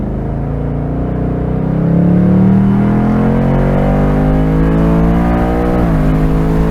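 A 2024 Ford Mustang convertible's 5.0 V8 revs loud and close as it accelerates, its deep engine note climbing steadily in pitch and then dipping briefly as it shifts gear, with no voices.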